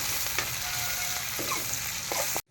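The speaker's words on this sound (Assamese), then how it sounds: "জলকীয়া দিলোঁ গৰম তেলত।" Chilies sizzle in hot oil with a bright, steady hiss and occasional crackles and utensil clicks, then cuts off abruptly.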